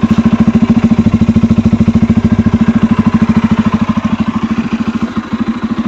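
A Bajaj Pulsar N250 motorcycle idles with no throttle, its steady, rapid exhaust thump running close and loud throughout, easing slightly toward the end.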